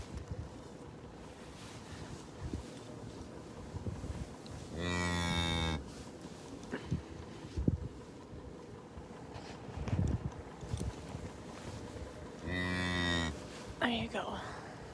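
Two long, loud moos from cattle on a ranch sound several seconds apart over a windy outdoor background, with a few scattered thumps and rustles.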